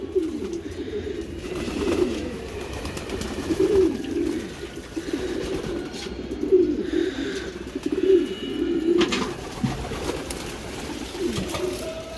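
Racing pigeons coo repeatedly in low, rolling calls that overlap and continue steadily, close by and moderately loud, in a loft in Mirpur, Dhaka.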